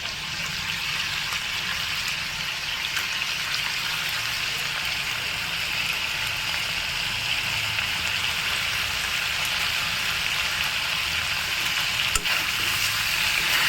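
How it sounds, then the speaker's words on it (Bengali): Chopped onion fries with browned garlic in a pan over low heat, producing a constant bright, hissing sizzle that holds steady and fairly loud throughout, with no voices. "এবার আমি এর মধ্যে দিয়ে দেবো হচ্ছে পেঁয়াজ কুচি"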